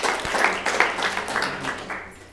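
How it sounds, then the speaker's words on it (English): An audience at a business talk about using Facebook claps for a speaker, a short burst of applause that fades out after about two seconds. "Give a big clap to Daniela."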